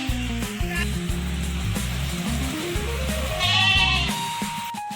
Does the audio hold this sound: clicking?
no